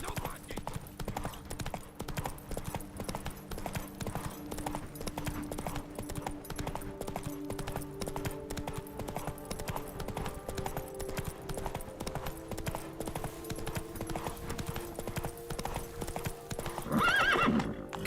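Roach, a horse in The Witcher 3 video game, gallops with steady rapid hoofbeats and lets out a whinny near the end, under continuous game music and ambience, with some speech mixed in.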